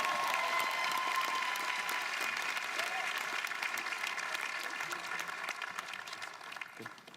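Sustained applause from a large audience at a 2015 Johns Creek High School graduation ceremony, steady and even, then gradually thinning out, with no voices over it.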